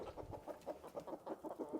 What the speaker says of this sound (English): look at how big this rooster is